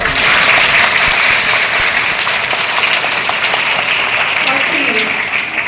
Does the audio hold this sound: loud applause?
yes